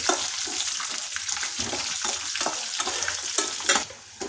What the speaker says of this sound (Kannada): ಸ್ವಲ್ಪ ಗೋಡಂಬಿ, ಶೇಂಗಾ ಬ್ರೌನ್ ಕಲರ್ ಬರುವವರೆಗೂ ಬಾಡಿಸಿಕೊಳ್ಳಬೇಕು.